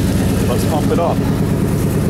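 A steady, loud mechanical drone of a Chevy truck's on-board air compressor pumping up a flat tire, a constant pulsing hum with a voice speaking over it.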